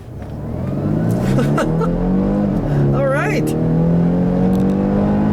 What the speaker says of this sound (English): it's a 2-liter 4-cylinder, pretty standard, but it is both turbocharged and supercharged